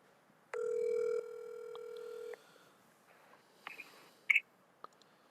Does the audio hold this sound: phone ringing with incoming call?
yes